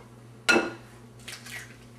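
One egg cracks sharply against the rim of a bowl, followed by a soft squishy drip as its contents slide in, close and fairly quiet in a kitchen.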